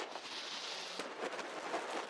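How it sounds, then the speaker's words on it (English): Video game fireworks burst and crackle in a dense, continuous barrage with a sharper bang near the middle, loud and busy throughout. "There's fireworks in this game."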